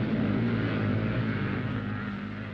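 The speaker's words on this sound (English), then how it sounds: "Engines scream as they roar up the banks." Scrambling motorcycles from the 1960s roar up dirt banks, a loud, sustained droning engine rumble with steady low harmonics that fades slightly toward the end, with no talk.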